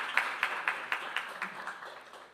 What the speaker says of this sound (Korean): 큰 박수 보내주시면 감사드리겠습니다